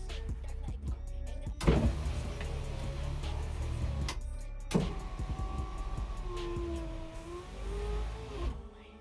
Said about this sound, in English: So all my windows roll down and up.